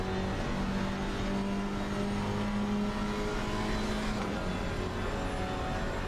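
GT4 race cars accelerating at Indianapolis in a sim racing game, a dense, loud, continuous engine drone with rising pitch as the cars push through a lap, no voices over it.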